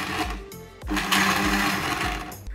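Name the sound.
mixer grinder blending wheatgrass juice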